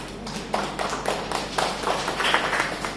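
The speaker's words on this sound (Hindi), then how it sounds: "जोरदार तालियां अपने लिए बजाइए।" An audience of school teachers at a health talk claps in irregular bursts, moderately loud and with no speech over it.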